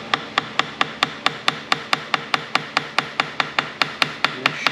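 A 17mm wrench is tapped gently while tightening during engine removal on a Honda CX500 motorcycle, giving a fast, even run of about twenty sharp metallic knocks close by, with no talking.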